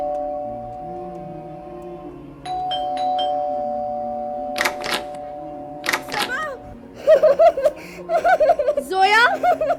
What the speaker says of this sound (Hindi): सबा जोया के घर की डोरबेल बजाती है